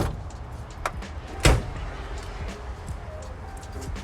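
A garage-door-style gas filler door on a 1955 Studebaker Commander shuts with one sharp, close thunk at about the midpoint, preceded by a lighter click, over a quiet outdoor background.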